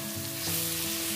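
Tempering for dhaba-style chana dal sizzles loudly in a pan, a continuous crackling hiss that swells slightly midway, close up and without talk.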